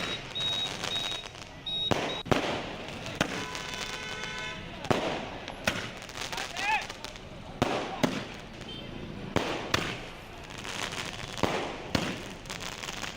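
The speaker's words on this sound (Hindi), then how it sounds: "आतिशबाजी हुई, धमतरी का ये नजारा।" Fireworks and firecrackers burst repeatedly at a celebration in Dhamtari, with sharp loud cracks and pops in irregular clusters, some whistling rises between blasts, and voices talking underneath throughout.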